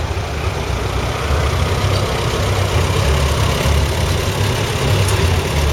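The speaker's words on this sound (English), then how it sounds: "Do take care, ladies and gentlemen, with these tractors." Vintage tractors rumbling out of a show arena at an autumn country show, a loud, continuous low engine drone that holds steady throughout with no talk over it.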